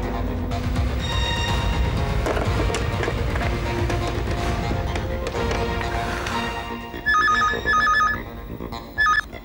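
An old-style telephone bell rings in a short, loud, repeated trill near the end, following a busy stretch of tense drama music and bustle in a police thriller television episode.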